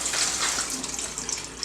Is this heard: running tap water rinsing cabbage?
yes